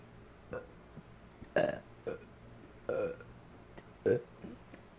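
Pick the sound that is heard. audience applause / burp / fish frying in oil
burp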